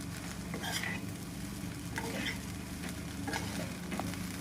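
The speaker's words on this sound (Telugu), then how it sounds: "సరిపడినంత రైస్ వేసుకొని మంచిగా మిక్స్ చేసుకోవాలి" Spicy egg garlic rice being stirred in a pan after more rice is added, giving a steady frying sizzle with scraping spatula strokes roughly every second, close and moderately loud.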